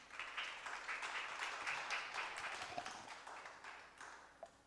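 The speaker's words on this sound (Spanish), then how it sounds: "Dale un aplauso al Señor." Church congregation clapping together in a sustained burst of applause, dense and steady, fading slightly toward the end.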